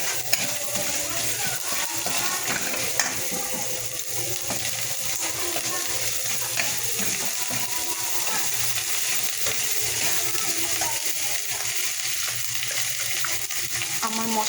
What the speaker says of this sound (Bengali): আমার মশলাটা ভাজা ভাজা হয়ে গেছে।